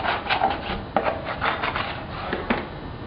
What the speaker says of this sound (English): we want to clean any debris from these areas using a non-metallic scraper